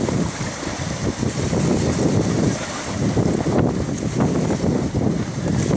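Steady wind rushing over a sailboat under way, with broadband hiss and water wash running loud and continuous throughout.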